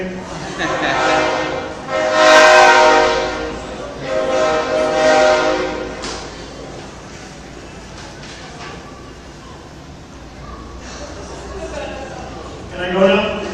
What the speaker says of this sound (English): I'll wait for the train.